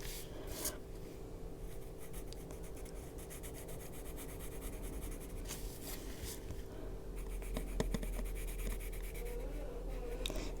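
Colored pencil rubbing across paper while coloring a whimsical fantasy cat design, a soft, continuous scratchy scribbling with short pauses and strokes, close and quiet against a faint steady hum.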